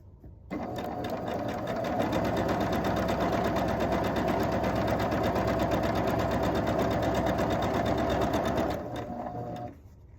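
A sewing machine chain piecing quilt block squares, a close, fast, even stitching rattle that starts abruptly, runs steadily for several seconds, then stops.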